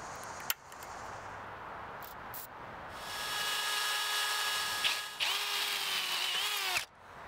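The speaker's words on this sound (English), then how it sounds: "I center punched the hole, then step drilled up to a quarter inch to fit the hardware I was going to use." A power drill with a step bit bores a quarter-inch hole through a metal bracket for a charcoal blacksmith's forge, a steady close whine that holds for several seconds, changes pitch near the end and then cuts off.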